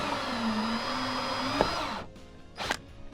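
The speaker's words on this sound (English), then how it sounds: "Line up your center drill right there and go to town." An electric drill whines steadily at high speed for a couple of seconds while boring a hole in a Mazda MX-5 Miata (ND) for a rearview camera, then cuts off, followed by a short burst of rattling as it spins down.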